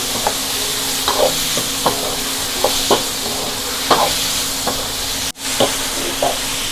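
Shrimp with garlic stir-fry in a hot pan, producing a loud continuous sizzle punctuated by repeated scraping and tossing strokes of a spatula, with a sudden brief drop partway through.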